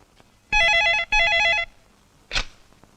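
A telephone rings at the start of a call to a Bombay hostel, giving two loud warbling electronic bursts in quick succession, followed by a brief clatter as the line goes quiet.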